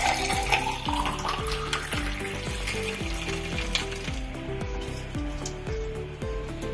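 Cucumber sherbet drink poured into a glass over ice cubes, a continuous liquid splash with repeated gurgling pulses throughout, close and fairly loud.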